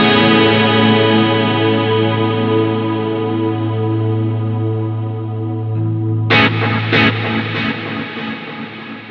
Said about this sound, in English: really kind of extremes of delay and reverb